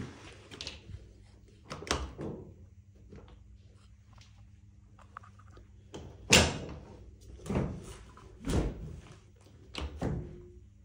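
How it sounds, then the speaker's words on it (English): Doors in an abandoned hospital swing open and shut, giving a series of irregular heavy thuds and bangs, some close and loud, separated by quiet gaps, with no one speaking. "Is it these doors trying to open and close?"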